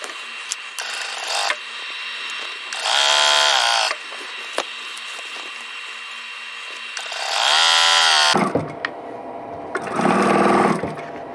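A sewing machine stitches a quilt block along drawn lines, whirring in three distinct runs of a few seconds each, with quieter handling and fabric shuffling in the pauses between them.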